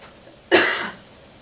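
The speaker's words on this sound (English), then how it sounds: "pepper is making me cough" A single sharp cough, close and loud, brought on by pepper while cooking, in an otherwise quiet room.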